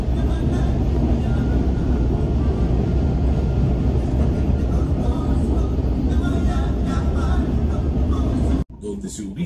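A Perurail Vistadome train rumbles steadily along the tracks through the Sacred Valley with a deep, continuous roar, then the sound cuts off abruptly near the end.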